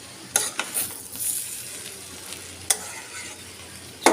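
Finished papaya bhaji frying in a pan, giving a close, steady sizzle with a few sharp scrapes and clinks as it is stirred.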